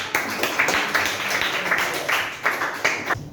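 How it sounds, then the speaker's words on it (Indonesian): A classroom gives a student group a short burst of clapping, several hands beating in a quick uneven rhythm, fairly close and loud, with no talk over it. "beri tepuk tangan"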